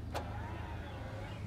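A 2008 Dodge Caravan power window runs: a brief click, then a faint, steady electric motor whir over a low engine hum inside the car, with no talk.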